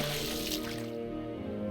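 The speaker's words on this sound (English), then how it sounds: "A sharp blast of water shoots out from hers." A sharp blast of water from a magic attack in the video game An Octave Higher, a dense, loud rushing gush over tonal game music that thins out after a second.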